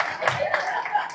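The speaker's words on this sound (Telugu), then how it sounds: "క్లాప్స్." An audience at a humour club event breaks into brief clapping, a dense patter of many hands lasting about a second, with faint chuckles mixed in.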